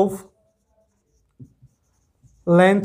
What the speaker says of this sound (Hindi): सो यहाँ हम लिखते हैं